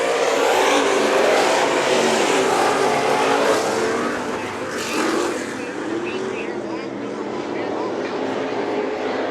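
Race cars roar around the Kern Raceway dirt track at Bakersfield during heat races, loud sustained engine noise swelling and then easing as the pack passes, with an announcer talking over it.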